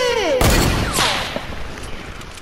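Sniper rifle shots ring out during online video game play, with a loud sharp crack followed by a ringing tail and a second fainter shot amid ongoing game sounds.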